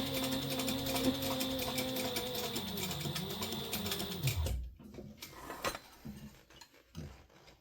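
A home sewing machine stitches the exterior pieces of a fabric zipper pouch in a steady mechanical run, then stops abruptly about halfway through, followed by a few scattered clicks and handling knocks.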